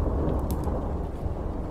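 Thunderstorm with steady rain and low rumbling thunder, a dense continuous wash of sound with a few brief crackles, heard alone at moderate loudness.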